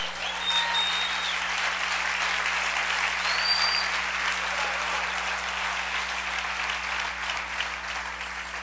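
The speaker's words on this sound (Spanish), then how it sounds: "Dale un aplauso al Rey." Steady applause from a church congregation during a Spanish-language sermon, a dense, even wash of clapping that holds for the whole stretch with faint crowd noise underneath and a low hum.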